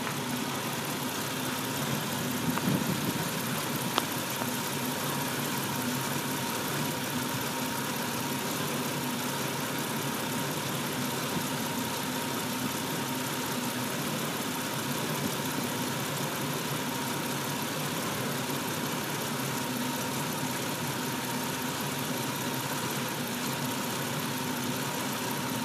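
A 1999 Ford Explorer with a 4.0 engine idles steadily up close, giving an even, continuous hum with no talk over it.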